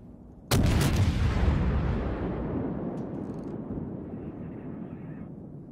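Heavy battleship shells from the German battleship Tirpitz in the naval game World of Warships, heard as one sudden, loud, close blast that rolls into a long fading rumble over steady low background noise, with no talking.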